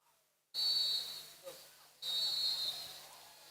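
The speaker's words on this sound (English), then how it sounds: "And that's the final whistle." A referee's final whistle at a semi-professional football match in Saint Lucia: two long, shrill blasts one after another, the second following a brief pause, over a hissy background.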